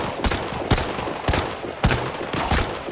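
Gunfire in the Arena Breakout shooter game: four or five distinct shots spaced roughly half a second apart, moderately loud and fairly close, with no talking over them.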